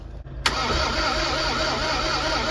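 A Bedford truck engine cranking over at a museum, a sudden loud starter whir kicking in after a brief pause and grinding steadily without catching.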